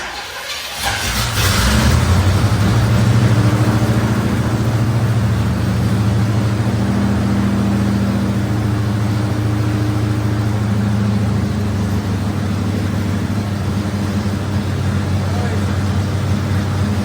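Chevrolet squarebody truck on carbureted gasoline cranking briefly, then firing up and settling into a loud, steady rumbling idle close by.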